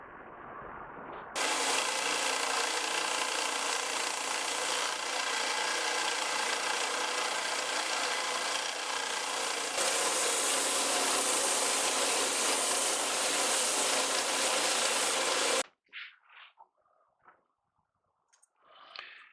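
A belt sander grinds down a maple piece for a 35-year-old mandolin, a loud, steady abrasive roar that runs about fourteen seconds without a break, then cuts off, leaving faint handling noises.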